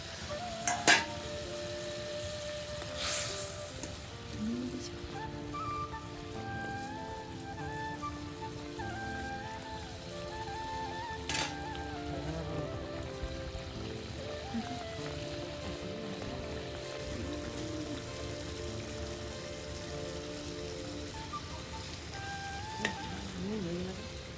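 Koi fish simmering in boiling gravy, a soft continuous bubbling sizzle with faint pops, low and steady, with a few clinks and distant background sounds.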